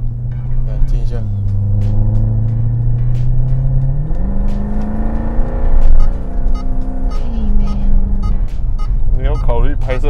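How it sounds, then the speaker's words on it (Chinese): A 2010 Mercedes-Benz C63 AMG Estate with a naturally aspirated V8 revs up and settles back several times, its deep, loud exhaust note rising and falling close by. "很好听呢，这个 V8 的，我觉得不错啊。"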